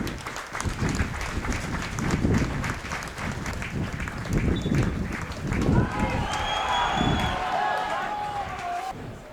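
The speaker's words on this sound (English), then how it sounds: "There will be a minute's applause before kick-off in memory of Jack Healy's grandfather" A football stadium crowd at East Fife holds a minute's applause before kick-off in memory of a player's grandfather, broad sustained clapping and crowd rumble, with a commentator talking over it.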